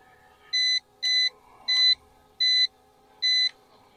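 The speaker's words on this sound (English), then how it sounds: "when you adjust the camera, it does beep the whole time" An ATTOP W80 GPS drone's camera gimbal beeps as it is adjusted, five evenly spaced bright electronic tones with short gaps between them, loud and clear over faint background hum.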